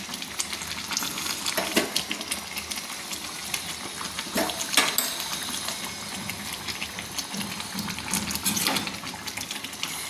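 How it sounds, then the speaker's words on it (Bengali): A fish curry with cauliflower simmering in a pan, stirred with a spatula: a bubbling, watery sizzle under occasional scraping strokes, close by, with no talking. "দিয়ে আমি আবারও ভালো করে আমি নেড়ে নিচ্ছি"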